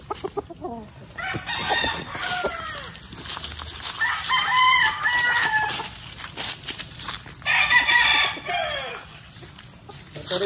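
A Sweater Gilmore gamefowl rooster crows loudly and close by, several long hoarse crows spaced across the clip, with clucking and other fowl calls in between.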